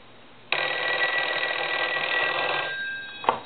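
A single long, crisp burst of a Western Electric 302 rotary telephone's mechanical bell ringing close by, lasting about two seconds and ending with a brief clatter.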